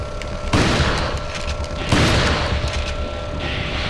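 Two heavy, booming blasts from a riot gun shotgun in Resident Evil 4, spaced about a second and a half apart, each ringing out loudly before decaying over a steady background hum.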